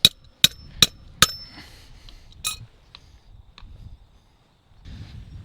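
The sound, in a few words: hammering while putting up a fence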